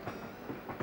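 Train moving in Animal Crossing, a short run of soft rhythmic clickety-clack beats rolling at a steady pace, fairly quiet and alone.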